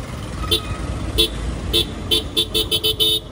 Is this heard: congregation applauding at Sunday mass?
no